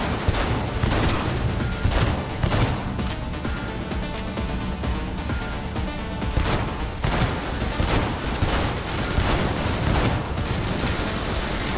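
Dense, continuous gunfire sounds throughout a Cyberpunk 2077 firefight, with rapid overlapping shots and sharp cracks layered into a loud, unbroken barrage.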